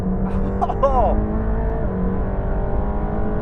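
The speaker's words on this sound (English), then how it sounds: "the engine definitely sounds different with that flat plain crank and the different firing order" Mercedes-AMG GT Black Series with a flat-plane crank V8 driving on the road, a steady loud engine drone running throughout, with someone talking briefly over it near the start.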